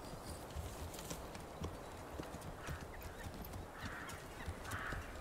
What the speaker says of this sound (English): The donkey's on the way!